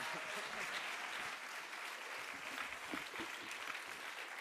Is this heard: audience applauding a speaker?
yes